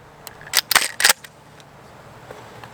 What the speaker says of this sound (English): Rack one right now.